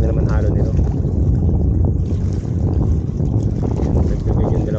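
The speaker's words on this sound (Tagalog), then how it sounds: "Lakas ang hangin." Strong wind buffets the microphone continuously while fishing from a barge, a loud steady rumbling roar with faint water sounds and a voice speaking briefly.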